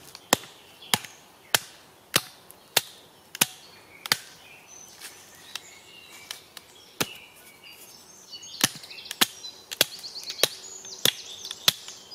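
Sharp, evenly spaced knocks as a Fiskars K40 knife blade is struck and driven into wood, splitting it, about a dozen blows, with faint outdoor ambience and light scraping between.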